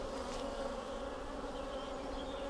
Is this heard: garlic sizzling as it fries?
no